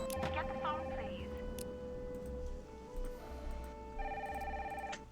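A telephone rings in the Nancy Drew: Danger by Design video game, its electronic tone repeating over game music and ambience, with voice-like sounds mixed in.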